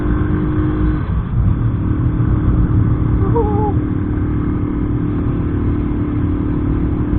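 A motorcycle engine straining at full throttle in third gear up a steep mountain road grade, a loud sustained roar that shifts pitch briefly early on, then holds steady and close, with wind noise and no speech.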